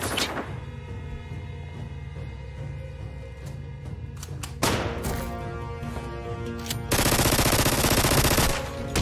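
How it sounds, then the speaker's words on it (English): Rapid gunfire from a show playing in the background, dense bursts of shots that grow louder and more intense toward the end, with no talk over it. "he emptied the clip in his man!"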